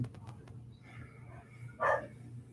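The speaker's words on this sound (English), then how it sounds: "If dogs are going off." A dog gives a single short bark from some distance, standing out briefly above a low, steady background hum, with no one speaking.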